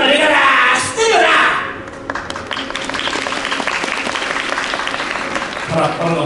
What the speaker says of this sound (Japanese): パラッパラの拍手ありがとうございます。